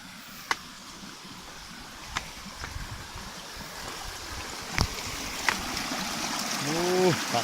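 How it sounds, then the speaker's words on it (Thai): A forest stream in a Thai park runs steadily under broadband wash, with a few sharp knocks and a brief whistle-like sweep near the end, fairly close and moderately loud. "เสียงน้ำไหลดังจวก"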